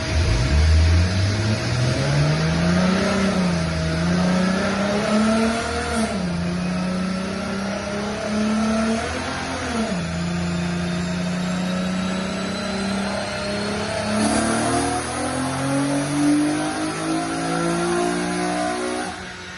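A nitrous-equipped car running a 125 shot of nitrous, making over 425 rear-wheel horsepower, revs loudly and close by, its engine pitch rising and dropping in repeated sweeps with no talk.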